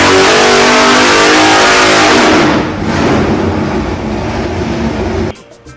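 A 572 Pump Gas Warrior big-block V8 in a car at Nelson Racing Engines roars loud and close through a hard rev, then drops to a lumpy idle before cutting off abruptly near the end.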